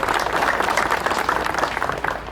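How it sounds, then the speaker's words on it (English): An audience at an outdoor D-Day 80th anniversary ceremony at an armor museum on Long Island bursts into steady, dense applause that is loud and close, trailing off slightly at the end. "a round of applause for them making it out to Long Island today"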